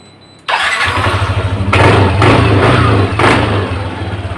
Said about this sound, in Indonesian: saatnya untuk menghidupkan motor ini